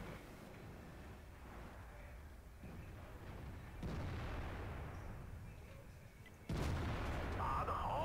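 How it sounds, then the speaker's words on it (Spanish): Tank cannon fire and battle booms in World of Tanks, a few heavy shots punctuating a busy game soundscape, fairly faint overall, with a sharp louder blast near the end. "Voy a defender, voy a meter un par de tiros ahí arriba."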